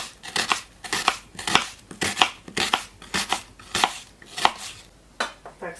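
A knife chops an onion finely on a cutting board in a home kitchen, giving a quick series of crisp, close taps in uneven bursts, about a dozen strokes with short pauses between them.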